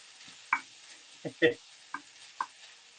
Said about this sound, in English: So you take your beef mince. Just going to mash that up. Break that up.